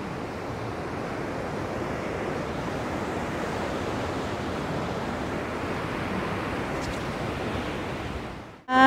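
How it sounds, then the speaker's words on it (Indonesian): Large ocean waves crash steadily against coral rocks on a beach at Karang Hawu, Sukabumi, West Java, a continuous loud roaring surf with wind, ending in a sudden brief handling noise. "ombak yang sangat besar ya menghantam Batu Karang"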